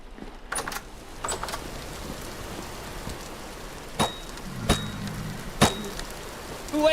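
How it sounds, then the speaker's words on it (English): Rain falls steadily in the video game Vintage Story, a constant soft hiss broken by a few sharp clicks and taps. "Is it raining?"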